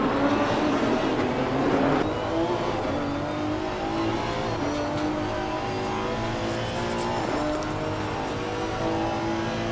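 A race car engine drones loud and steady at high revs while driving fast on a circuit with the Curva Grande bend, its pitch rising and falling slightly as gears and throttle change, close and continuous with no talking.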